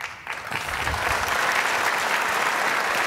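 An audience applauds at the Reagan Forum, clapping swelling from a quiet start into steady, full, sustained applause from a large crowd indoors, with no speech over it.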